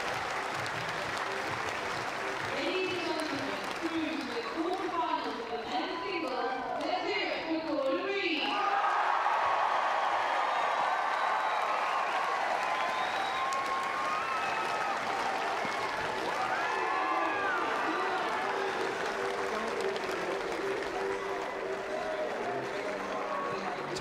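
A crowd applauds steadily at the London 2012 Paralympic wheelchair tennis at Eton Manor, saluting a home player's win in a men's singles match; the dense clapping runs throughout, with a voice talking over it in the first part.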